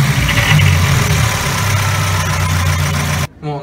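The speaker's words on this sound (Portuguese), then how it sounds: "Agora a gente vai acelerar o carro para ver se está cortando." A car engine fitted with an ODG three-step rev limiter is revved hard close up, a loud, droning tone holding at the cut for about three seconds before dropping abruptly to near silence.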